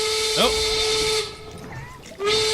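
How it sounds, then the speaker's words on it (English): A steam whistle signals the end of a match in a video game, blowing a sustained tone with a swelling start, then sounding again briefly after a pause over steady hissing game noise. "There's the steam whistle."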